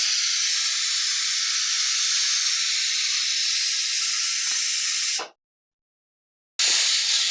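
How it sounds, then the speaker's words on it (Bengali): A pressure cooker whistles loudly while beef cooks inside, a close, continuous high hissing steam release that cuts off abruptly and then resumes after a short silence. "প্রেসার কুকারে আমি মাংস বসিয়েছি, 1টা সিটি বেজেছে"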